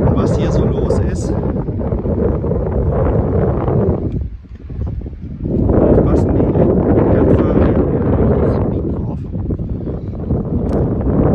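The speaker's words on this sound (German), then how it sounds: "Hier sehe ich auch mal ein Motorboot fahren" Motorboat passing at the Brouwersdam, a loud continuous engine drone with heavy wind buffeting the microphone, dipping briefly midway before rising again.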